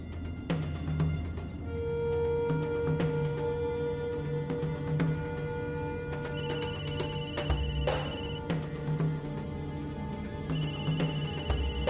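A telephone rings again and again in a steady repeating pattern, loud and close, with no voice answering.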